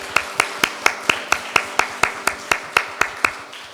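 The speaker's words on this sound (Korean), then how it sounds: "하나님께 영광 박수 올려드리겠습니다" A church congregation claps in unison during a Sunday worship service, about fourteen sharp, evenly spaced claps in a steady rhythm, close and clear with no talking over them.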